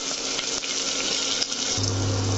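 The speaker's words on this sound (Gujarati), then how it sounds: "લસણ પડી જાય એટલે મરચા, અને એને સારી રીતે સાંતળી લઈ." Garlic and chilies sauté in a hot pan with a steady, close hiss of sizzling oil that stays even throughout and has no talking over it.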